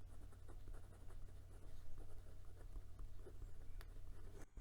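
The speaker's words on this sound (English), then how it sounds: "and for some reverse writing." A Moonman Q1 fountain pen writing in reverse on paper gives a faint, continuous scratchy scribble with small irregular strokes, close up over a steady low background hum, with no talking.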